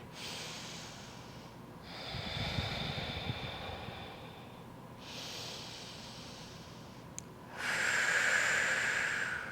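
Slow, deep yoga breathing during an advanced vinyasa flow: several long, airy nasal inhales and exhales with pauses between. The final breath is the loudest, and no one speaks.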